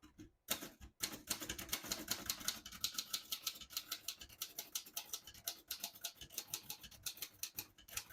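Rapid typing on a 1936 Royal Model O portable typewriter with glass keys, a fast, even stream of crisp keystrokes close up, with a couple of heavier clunks near the start.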